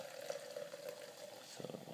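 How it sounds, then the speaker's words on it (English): Burn energy drink pours from a can into a glass, a faint, steady liquid trickle lasting under two seconds, with a brief splashing burst near the end. "Let's just pour it in."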